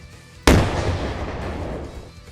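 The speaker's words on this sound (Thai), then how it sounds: "ระเบิดชิ้นหนึ่งถูกติดไว้ที่ข้างหลังของเขา มันได้ทำงานในจังหวะสุดท้ายพอดี" A sudden loud explosion bursts out, then rumbles and decays with a long, noisy tail.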